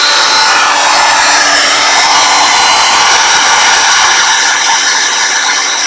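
A heat tool for embossing in card making blows loudly and continuously at close range, a steady whooshing fan drone that holds unbroken throughout with no talking.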